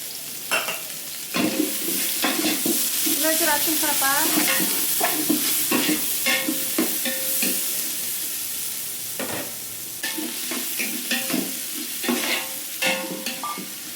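Loud tempering spices for a fenugreek gojju sizzling and popping in hot oil while a spoon scrapes and stirs the pan repeatedly, close by with no voices.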